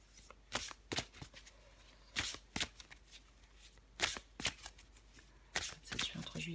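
Tarot cards are shuffled in repeated short riffling bursts, close and crisp, with brief pauses between handfuls, quiet room behind.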